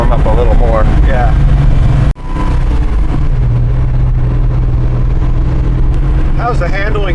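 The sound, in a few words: 1969 El Camino LS 427 engine running on dyno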